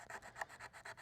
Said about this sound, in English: You can sand it over here a little bit more.